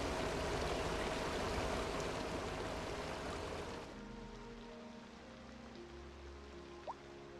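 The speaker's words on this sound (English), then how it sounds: "And then we got a whole water plant." Running water from a water treatment plant in the city-building game Cities Skylines 2, a steady rushing hiss that drops noticeably in level partway through.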